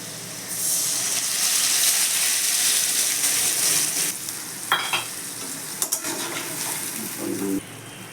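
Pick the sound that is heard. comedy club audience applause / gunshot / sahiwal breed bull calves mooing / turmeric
turmeric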